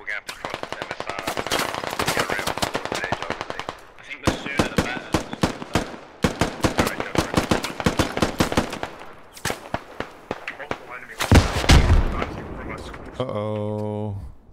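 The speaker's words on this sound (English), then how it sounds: "they're shooting RPGs into here, but not getting anything" Gunfire and RPG fire in the military shooter Squad, long rapid machine-gun bursts with sharp repeated cracks, loud and close, a heavy blast near the end, with voices talking over the fighting.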